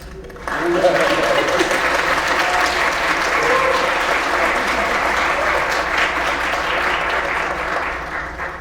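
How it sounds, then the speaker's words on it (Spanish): An audience applauds at a literary talk on writing and illustration, loud sustained clapping from many hands that holds steady for several seconds after a sudden start. "Sí, aplauden."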